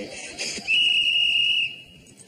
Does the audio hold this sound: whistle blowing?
yes